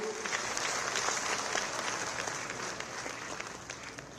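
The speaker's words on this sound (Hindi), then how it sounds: "उनके लिए एक बार जोरदार तालियां बजाएं।" Loud, sustained applause from a large audience fills the air at the main ceremony for Maharana Pratap's 483rd birth anniversary in Udaipur, a dense continuous clapping that lasts throughout.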